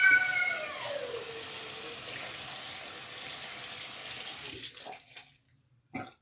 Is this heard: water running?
yes